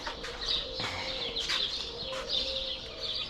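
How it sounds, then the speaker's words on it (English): Farm birds on a family farm cluck, coo and chirp in a busy, overlapping chorus, with repeated short calls at moderate distance and a faint steady hum underneath. "Look at the birds."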